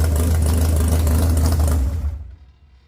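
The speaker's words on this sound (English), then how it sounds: "this thing fired right up, and it's idling really nice." A 512 ci big block Mopar engine idles with a deep, steady low rumble close by, then cuts off and fades to silence in the last second.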